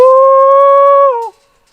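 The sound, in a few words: goat kids bleating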